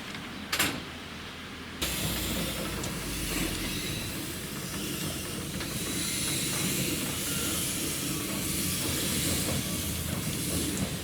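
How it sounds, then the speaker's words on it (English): Steam locomotive 260 number 9, built by La Meuse of Liège in 1938, on a narrow gauge tramway, giving a sharp burst of steam followed by a steady, loud hiss of escaping steam that carries on without a break. "Here 260 number 9, built by La Meuse of Liège in 1938, prepares to go on shed for servicing before working the next train."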